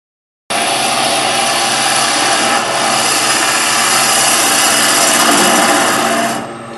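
A wood lathe spins a spindle while a gouge scrapes its surface with the bevel riding the wood, producing a loud, steady rushing hiss that starts abruptly and holds without a break before easing off at the end.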